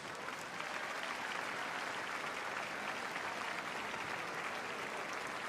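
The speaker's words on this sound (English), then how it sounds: "Please give them a big round of applause." Audience applause in a large arena at Crufts during an award presentation, a distant, wash-like roar of clapping that stays steady and even from start to finish.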